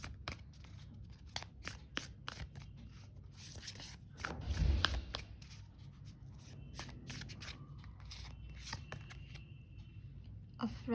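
Tarot cards are shuffled by hand in rapid, crisp riffles and soft flicks, close and fairly quiet, with a few brief pauses between bursts.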